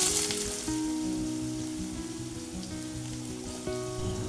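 Potatoes and black cumin seeds sizzle in hot oil, a steady crackling hiss close up with a low background hum running beneath it.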